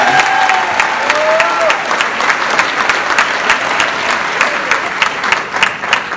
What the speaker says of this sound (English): Can we give all of our recipient award winners a round of applause?